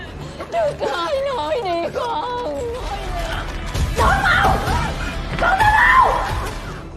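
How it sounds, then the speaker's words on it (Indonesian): A woman screams and cries in distress during a fight, with high wailing cries rising and falling over a background of commotion and other voices, loud and close. "Beliau menangis dan berteriak, sembari terus memohon agar mereka berdua segera menghentikan perkelahian itu."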